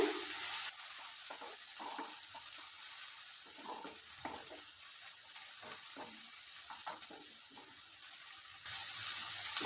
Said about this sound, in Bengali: ঢাকনাটা তুলে নেওয়ার পর ভালো করে আবারও নেড়ে চেড়ে নিচ্ছে